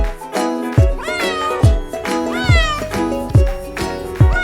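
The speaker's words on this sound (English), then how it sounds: "Cat." Domestic cat meowing, several drawn-out rising and falling meows repeated close and clear over a rhythmic musical backing with a steady beat.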